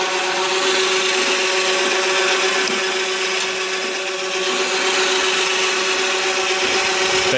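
An electric winch hoists added weight up a wind turbine, giving a steady, loud mechanical whir with a constant tone that runs unbroken for the whole stretch, with no talking.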